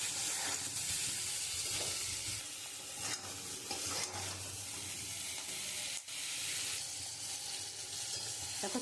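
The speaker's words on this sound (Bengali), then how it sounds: "দিয়ে আমি খুব সুন্দর করে মশলাটা কষিয়ে নেব।" Spices with potato and eggplant sauté in hot oil for a Bengali hilsa curry, giving a steady close sizzle and frying crackle broken by scraping stirs throughout, with no talking.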